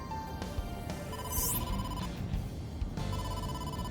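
Phone ringtone for an incoming call in the video game AI: The Somnium Files, a repeating electronic ring with short tonal bursts, moderately loud against a soft game background.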